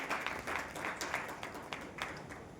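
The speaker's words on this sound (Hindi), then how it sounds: "मैं चाहती हूँ कि आप सभी तालियों से एक बार उनका ज़ोरदार इस्तकबाल कीजिए।" Applause from an audience at a literary society gathering in Karnal, welcoming the dignitaries on stage; a faint, distant, sustained wash of clapping with a few sharper individual claps standing out.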